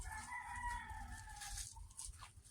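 A chicken clucks and calls softly in the distance, with faint outdoor background noise and no talking.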